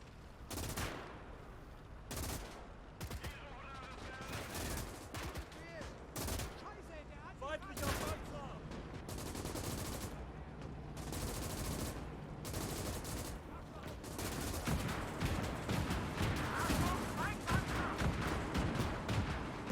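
Machine guns and other weapons rattle across a World War II battlefield on the Eastern Front in the real-time strategy game Call to Arms, with dense repeated bursts, some near and loud, others further off, as someone talks now and then.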